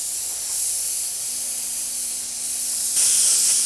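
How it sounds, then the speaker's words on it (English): Black spray paint hissing steadily from an aerosol can over a stencil, close and continuous, with a brief louder burst near the end. "I'm going to spray some black in there just to give it like a shadow effect to it."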